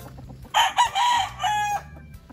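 A fighting rooster crows loudly and close by, a drawn-out call broken into several bursts, with soft clucking around it.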